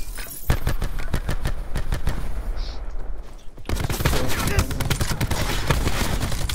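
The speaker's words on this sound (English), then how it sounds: "It's kind of like rapid fire on the shorter time between bursts." Rapid-fire gun bursts in a shooter video game, dense automatic shooting that drops out briefly near the middle before resuming loud and continuous, close to the listener.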